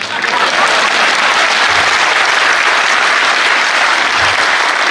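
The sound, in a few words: audience applause at poetry gathering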